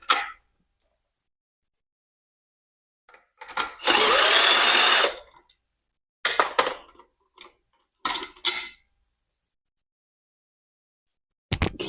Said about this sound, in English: First thing we want to do is take these screws out.